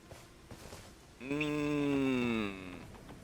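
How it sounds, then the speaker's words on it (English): A single sheep bleat from the video game Elden Ring, one sustained wavering cry lasting about a second, clear and fairly close over quiet ambience. "Sheep was eating it there for a second."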